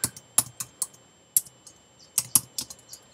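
Short bursts of typing on a computer keyboard, close and crisp, with irregular clusters of key clicks separated by brief pauses while a post title is entered.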